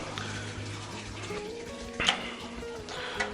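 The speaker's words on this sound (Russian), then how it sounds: "Сейчас поставим шланг, нальем водичку." Water running from a hose into a home autoclave in a village setting, a steady splashing fill with a brief louder gurgle midway, heard close under faint background noise.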